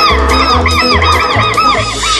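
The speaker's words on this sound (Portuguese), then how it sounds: "Os quero-queros dão o alerta quando alguém se aproxima." Southern lapwings in the Pantanal give repeated harsh alarm calls, loud and close, in a rapid overlapping chorus over a low pulsing hum.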